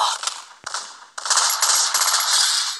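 Gunfire from an SKS rifle in a shooter video game, a sharp crack followed by a burst of rapid, loud shots that carry on steadily to the end, with no talking.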